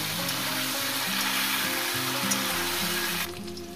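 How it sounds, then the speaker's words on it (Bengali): Flat beans and potatoes fry together in a pan, a steady, close sizzle with a slight drop in level just before the end and no talking. "এই সিমগুলো দিয়ে আরো 3 থেকে 4 মিনিট আমি এটাকে আলুর সঙ্গে ভেজে নেব।"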